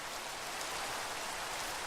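Rain falling in a video game, a steady dense hiss of drops with no pauses, moderately faint and heard alone.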